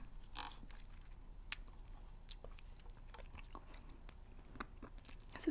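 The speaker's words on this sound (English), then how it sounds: "These are all hard, crunchy mints, and the first one I had just melted." Hard, crunchy mints being chewed up close, with a run of crisp crunches and bites spread irregularly across a quiet background.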